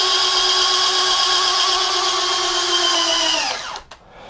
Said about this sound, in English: You can see how nicely that motor drives that jack screw through and folds up the wings nicely.